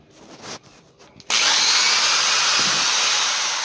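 Power drill boring holes through a plastic pipe for a water tank cleaning system, a few quiet handling sounds first, then a loud close continuous whine as the bit cuts in and keeps running.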